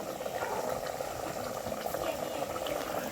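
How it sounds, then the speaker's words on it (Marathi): River-crab curry comes to a boil in a pot on a wood-fired village stove, giving a steady, soft bubbling hiss that stays even throughout. "बघा कड येतोय, आता कड आलाय चांगला."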